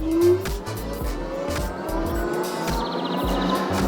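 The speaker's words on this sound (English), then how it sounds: "Let's do an acceleration test using the throttle only." A cheap Cycrown moped-style e-bike accelerates on throttle alone across level ground, with a rising electric motor whine and rhythmic low thumping under steady wind and road rumble, heard up close without voices.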